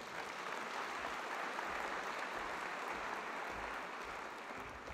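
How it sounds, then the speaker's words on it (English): A convocation audience applauds steadily and loudly throughout, a dense continuous wash of clapping with no talk over it. "Please give yourselves a big round of applause."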